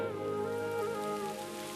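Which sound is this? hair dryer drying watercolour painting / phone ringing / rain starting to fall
rain starting to fall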